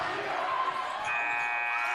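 An end-of-quarter buzzer sounds at a women's college basketball game, a steady electronic tone entering about halfway through over the arena's crowd noise and a commentator's voice.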